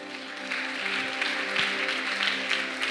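A church congregation claps in sustained applause, a steady dense patter of many hands with a sustained musical tone underneath.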